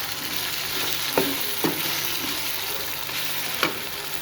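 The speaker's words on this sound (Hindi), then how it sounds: "बस अभी ये सब्जियों वगैरह को मैं थोड़ा थोड़ा सा इनको फ्राई कर रही हूँ।" Chicken frying in a pan with peas, potatoes and carrots: a steady broadband sizzle runs throughout, broken by a few sharp stirring clinks and scrapes at intervals, close and moderately loud.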